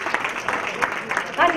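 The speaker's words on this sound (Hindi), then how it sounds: "एक बार अपनी करतल ध्वनि से स्वागत कीजिए" An audience in a hall applauds to welcome a singer at a special evening event, a brief stretch of dense clapping with a voice rising briefly at the end.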